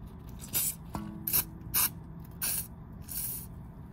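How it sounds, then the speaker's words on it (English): WD-40 is sprayed onto a part of a 2007 Mini R56 in five short, hissing bursts, each under half a second, separated by brief quiet gaps with faint clicks. "Just gonna put a little bit of WD-40 in the area."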